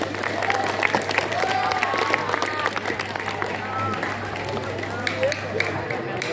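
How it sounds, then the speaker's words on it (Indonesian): Applause from an audience at a pre-Ramadan religious gathering at a school, a steady wash of clapping mixed with crowd murmur and voices throughout. "Sekali lagi tepuk tangan untuk ayahanda kita tercinta."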